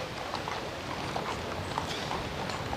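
Hooves of a ridden horse clip-clopping at a steady walk on firm ground, an even run of close, distinct knocks at a moderate pace with no talking over them.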